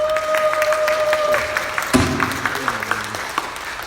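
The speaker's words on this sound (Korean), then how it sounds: "설교하러 나오는데 박수 쳐주시는 교회는 처음인 것 같습니다." A church congregation claps in welcome for a preacher coming forward, a steady wash of applause from a crowd with a brief sustained tone in the background that fades near the end.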